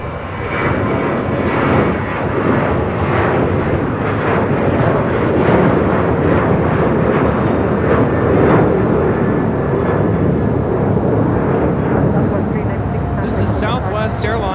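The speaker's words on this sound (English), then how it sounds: "This is Southwest Airlines 396 taking off to Austin on a 737-800." A Southwest Airlines Boeing 737-800 departs on its takeoff roll at a busy airport, with a loud, steady jet roar holding throughout and a brief higher tone near the end.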